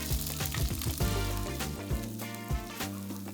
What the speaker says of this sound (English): Now we're gonna stir fry our beef with a little bit of garlic and onion.